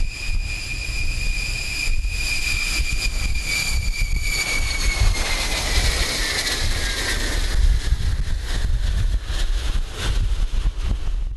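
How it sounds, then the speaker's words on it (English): An aircraft lands on wheels on the solid blue ice runway at Union Glacier in the Ellsworth Mountains, Antarctica, a loud, steady engine roar with a whining tone that slowly drops in pitch, heavy wind rumble throughout, no talking. "The Aleutian lands with wheels onto the solid blue ice runway."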